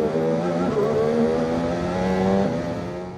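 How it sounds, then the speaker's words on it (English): A limited-production hybrid hypercar using F1-derived power technology roars loudly with a rising, harmonic engine note, revving and shifting pitch over a few seconds before the sound tapers slightly. "The engine sounds like a beast roaring"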